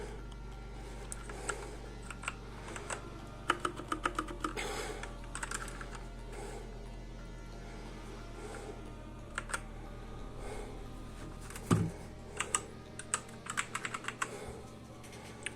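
Typing on a Machenike K500 B94 mechanical gaming keyboard gives close, crisp clicky keystrokes in uneven bursts over a low steady hum, with a few louder clacks near the end.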